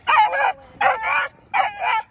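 A dog that reacts to other dogs barks three times in quick succession, each bark a loud, close double burst with short pauses between.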